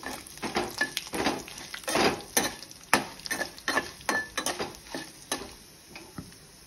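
Curry leaves and cashews stirred in a pan of hot oil, with steady scraping strokes and a light sizzle underneath, close up and with no talking.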